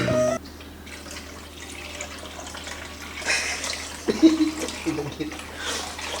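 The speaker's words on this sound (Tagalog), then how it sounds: "So, lagyan natin ng maraming tubig." Water runs and splashes into a cooking pot for soup, with gurgling bursts and a short clatter near the end.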